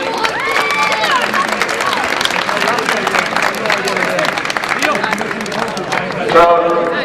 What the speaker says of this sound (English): I'd ask you to give a warm round of applause to Johnny Murphy and his officials.